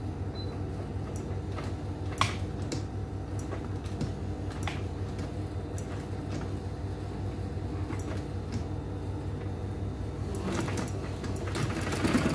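A sewing machine runs in a steady close mechanical rattle throughout, top-stitching the edge of a fabric purse, with a few brief clicks and no talk.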